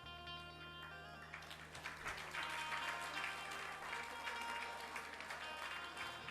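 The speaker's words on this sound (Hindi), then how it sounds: "तालियां खुशी में बजी हैं।" A gathered audience at a spiritual discourse applauds in joy, sustained crowd clapping building after a moment and continuing as a steady, fairly distant wash, with a faint voice or tone beneath it.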